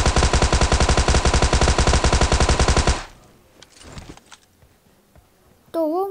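Thompson submachine gun firing in PUBG Mobile on the Erangel map: a loud, rapid, sustained automatic burst for about three seconds, then a lull with faint game sounds and a short tonal effect near the end.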